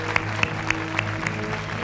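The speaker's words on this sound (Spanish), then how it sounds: "Un aplauso para ellos, para él." A television studio audience gives a round of applause, a moderate wash of clapping with a few sharper claps standing out at roughly regular intervals over a steady hum.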